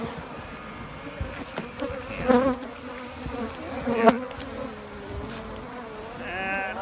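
Honey bees swarming in a bell tower, a dense continuous buzzing hum of many insects close by, with a few louder passes of individual bees.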